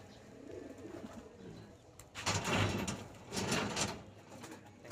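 Pigeons coo during a flying training session on a hot day, soft low calls rising in two louder bursts with some rustling and flutter close by.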